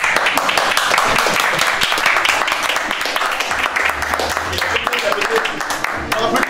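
Applause and clapping from an audience backstage at a comedy show, dense and steady throughout, mixed with crowd chatter and voices talking over it.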